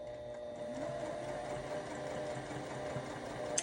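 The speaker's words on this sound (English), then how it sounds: "We're just going to back stitch." A sewing machine back stitches fabric with a steady, continuous mechanical whir, close and fairly loud, running alone without pauses.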